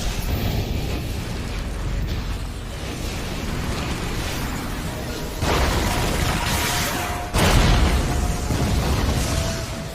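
Continuous booming cartoon explosions and rumbling blasts from a Jujutsu Kaisen fight, Gojo vs Jogo, in Tamil dubbing, with two sharper bursts standing out toward the end, loud and dense throughout.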